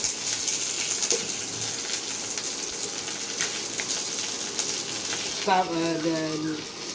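Fresh home-grown curry leaves sizzle steadily in hot oil, a continuous crackling hiss close by, with a brief burst of talking near the end.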